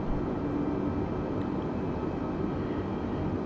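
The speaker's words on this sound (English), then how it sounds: "You can hear the engines winding down as we're lowering the plane" Airplane engines in a flight simulator game winding down as the plane descends at sunset, a steady low droning rumble that holds evenly throughout with no voices.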